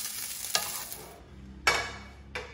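Vegetables fry in a pan with a close, crackling sizzle that breaks off and returns in bursts, sharp clatters marking each restart.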